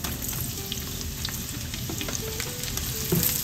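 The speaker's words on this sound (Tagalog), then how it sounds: "Lagay na po tayo ng sibuyas." Onions frying in a non-stick pan with golden-brown garlic, a close, steady sizzle with faint crackles and a light clatter near the end.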